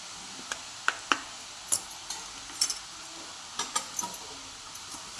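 Sweet milk mixture with sugar and cardamom powder stirred in a pan for kharvas vadi, with sparse scraping taps and soft clinks of a spoon against the pan at an irregular pace, close and quiet.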